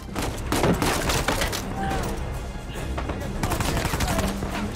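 Pistol gunfire in the video game Uncharted 4, several sharp shots scattered through a busy game mix with other gunfire and ambient noise, plus a little talk.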